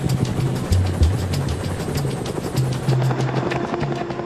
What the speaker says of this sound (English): The wounded are taken off in the first Chinook.